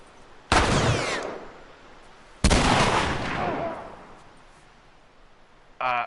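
Shotgun blasts in The Last of Us, two loud booming shots about two seconds apart, each trailing into a long rumbling decay, followed by a short metallic mechanical sound at the end.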